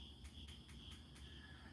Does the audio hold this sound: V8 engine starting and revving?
no